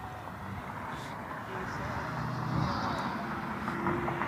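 An American airliner inbound from Charlotte, heard as an A319 approaching Cleveland Hopkins, with a broad engine roar that swells gradually over steady outdoor rumble and wind.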